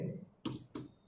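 Two quick, crisp keystrokes on a computer keyboard, typed while entering text into an Excel spreadsheet. They are isolated taps, fairly quiet and close up.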